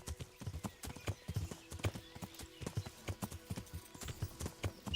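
Horse hooves clip-clop in a steady, uneven rhythm throughout, with a brief whinny, in the medieval role-playing game Kingdom Come: Deliverance; no one speaks.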